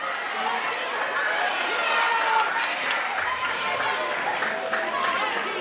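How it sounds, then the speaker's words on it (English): A school band concert audience claps in a steady, continuous wash with crowd murmur and chatter mixed in, moderately loud throughout. "one more round of applause for them."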